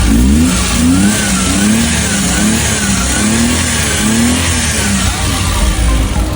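Suzuki Scrum mini truck engine revving after a top overhaul, a loud, close mid-pitched roar that rises and falls in repeated throttle blips with no talk over it.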